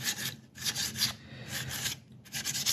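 Aluminium foil scrubbing surface rust off a Honda GL1100 rear view mirror gives a fairly quiet rasping rub in back-and-forth strokes with short pauses between them.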